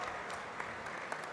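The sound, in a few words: audience applause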